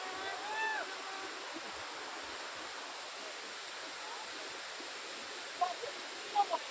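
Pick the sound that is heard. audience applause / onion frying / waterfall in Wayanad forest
waterfall in Wayanad forest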